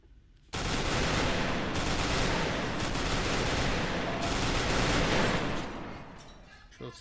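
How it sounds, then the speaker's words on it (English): Sustained burst of gunfire in the video game Repleh County 2, a dense continuous volley that starts abruptly, holds loud for several seconds, then tapers off. "Shots fired."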